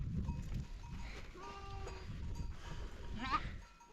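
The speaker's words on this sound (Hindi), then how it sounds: "ये देखो भाई, कितने प्यारे से बच्चे हैं बकरियों के।" Young goat kids bleat in short, wavering cries among a herd of goats roaming forest land with herders, heard close over rustling movement and background noise.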